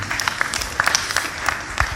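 An audience at a talk on humility gives a round of applause, a brief burst of many scattered hand claps, moderately loud, lasting about two seconds.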